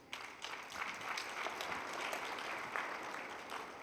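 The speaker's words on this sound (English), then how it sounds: "give yourselves a round of applause" A community forum audience applauds steadily, a dense wash of many hands clapping at moderate distance that holds evenly for several seconds, with no talk over it.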